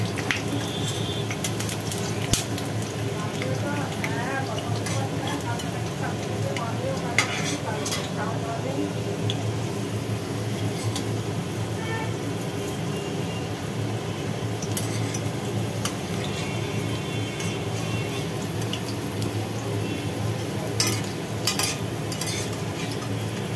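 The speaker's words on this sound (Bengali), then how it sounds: "আলুগুলো একটুখানি ঘুরিয়ে ঘুরিয়ে না ভাজলে বেশ লাল লাল করে" Potato pieces fry in a pan while being stirred and turned, giving a continuous sizzle broken by scraping clinks of the utensil, close up.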